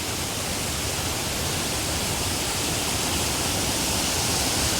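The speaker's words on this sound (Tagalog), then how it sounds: "Daming tubig na bumubulwak doon" Waterfall in Aurora Province gushing heavily, a steady broadband roar of falling water that stays loud and unchanging throughout, with no voices over it.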